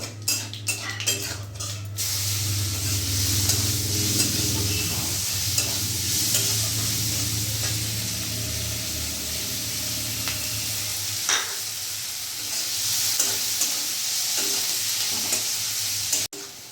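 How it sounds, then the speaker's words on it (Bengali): Finely chopped whole onion sizzles steadily in oil in a pan while a utensil scrapes and stirs it, with clinks at the start and occasional louder stirring knocks throughout. "পেঁয়াজটা আমি ততক্ষণ ভাজবো যাতে কাঁচা গন্ধটা চলে যায় পেঁয়াজের।"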